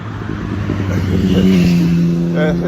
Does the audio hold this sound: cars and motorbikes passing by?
yes